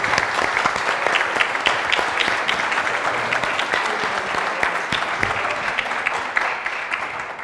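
Sustained applause from a large audience at the finals of a university venture plan competition, dense and steady clapping filling the room for several seconds with no talk over it.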